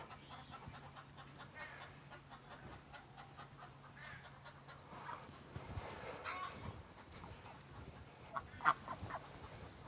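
Hens on a farm cluck and murmur at feeding time, scattered soft calls over a low steady background hum, growing busier and a bit louder in the second half, with no talking.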